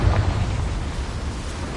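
A Confringo blasting spell explodes in the Hogwarts Legacy video game, a loud, rumbling low boom with a sharp burst near the start that stays heavy and sustained through the short moment.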